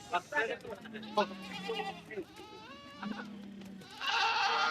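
A red Kathewadi goat gives a couple of bleats nearby, mixed with people talking close by in a busy outdoor setting.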